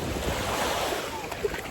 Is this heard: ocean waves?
yes